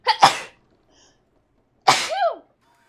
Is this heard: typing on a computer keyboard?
no